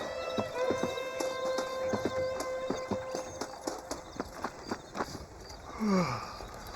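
A horse gallops in the Western video game Red Dead Redemption, giving steady, rhythmic clip-clop hoofbeats at moderate volume over a quiet background, with a brief snort or whinny near the end.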